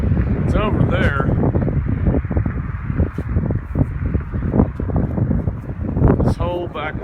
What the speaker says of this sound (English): Oh, the wind picked up, all right.